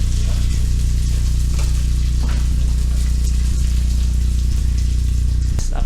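Chicken adobo with bay leaves sizzles loudly in a pan while it is stirred, a dense continuous frying hiss over a low hum, with occasional soft clinks of the utensil.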